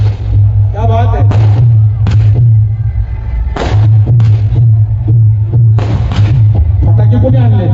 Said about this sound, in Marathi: फटाके कोणी आणले?